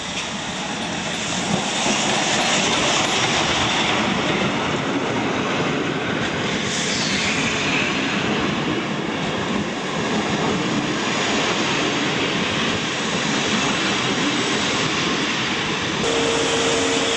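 A steam train pulls into a station in Poland's Poznań region during a downpour, with a steady, loud wash of rain and rolling rail noise filling the whole span; no one speaks.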